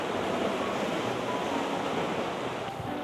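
Sea waves wash onto a Macau beach in a dense, unbroken roar of surf, loud and close, with no voices over it.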